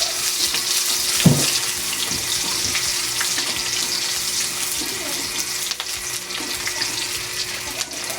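Garlic and onion sauté in a hot pan for chicken asado, giving a steady, close sizzle with a hissing, watery texture and occasional faint stirring knocks.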